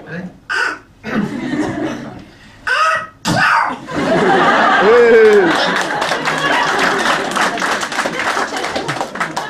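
A man makes a few quick comic vocal bursts, then a squawky Donald Duck–style sneeze imitation, followed by clapping and laughter.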